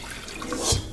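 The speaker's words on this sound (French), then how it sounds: "On mouille avec de l'eau à hauteur." Water poured into a cooking pot of raccoon jambalaya, a short close splash that rises to a brief louder gush near the end, with no talking.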